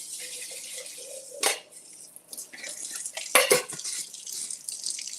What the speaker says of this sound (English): We're just gonna get some soapy water and clean this out really, really good and wash the outside.